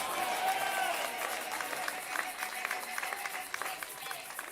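A church congregation claps and cheers in acclamation of the Lord, a broad wash of applause with scattered sharper claps that gradually thins, while a voice carries on speaking over it.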